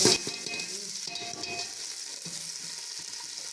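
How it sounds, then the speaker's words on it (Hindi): Finely chopped onion sizzling in hot oil while being stirred, a loud, close frying hiss that opens with a sharp burst and then settles into an even sizzle, with no voices. "ये प्याज बरीक बरीक चॉप के मैंने इसके अंदर"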